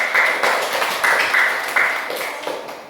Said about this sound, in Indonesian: kita tepuk tangan semua dulu